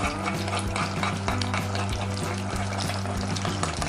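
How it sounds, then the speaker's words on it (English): Steady, close crackling sizzle of an egg frying in hot oil, continuous throughout with light stirring and pan noises. "Can you hear that sizzling sound?"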